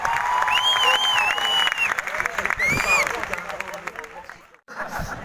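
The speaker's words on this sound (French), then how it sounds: "mesdames, messieurs, vous pouvez l'applaudir encore une fois." An audience at the Marrakesh du rire comedy show applauds a performer, dense clapping mixed with cheers and whistles that thins out and drops away near the end before picking up briefly again.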